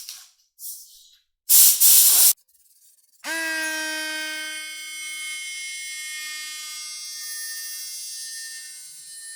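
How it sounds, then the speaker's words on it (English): Gloss black spray paint on window trim: a few short hissing bursts from a spray can, each under a second. A steady, thin whining tone takes over and continues to the end. "So now I'm going to hit it with the gloss black."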